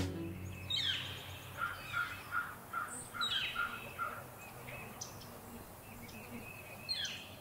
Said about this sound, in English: it is so quiet with the birds in the background